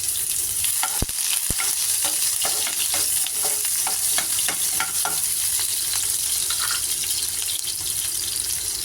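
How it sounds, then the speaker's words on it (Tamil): Shallots and curry leaves sauté in hot oil for a prawn pepper fry, with a close, steady sizzle and repeated scraping stirs of a spoon in the pan, plus a couple of sharp knocks early on. No one speaks. "கருவேப்பிலை, வெங்காயம் நல்லா வதங்கணும்"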